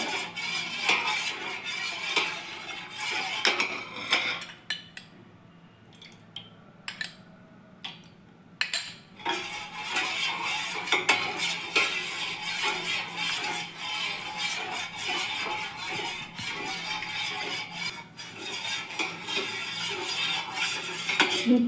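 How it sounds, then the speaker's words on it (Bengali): A utensil scraping and clinking steadily against a pot as milk is stirred with vinegar to curdle it, continuous fine scratchy stirring with a brief quieter pause and a few sharper taps. "এবার আমি অল্প অল্প করে ভিনিগারটা দিয়ে দেবো এর মধ্যে আর নাড়াতে থাকবো"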